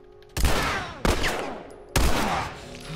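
Three heavy gunshots fired from a weapon in The Last of Us, each a sharp loud crack with a lingering echoing tail, spaced unevenly about a second apart.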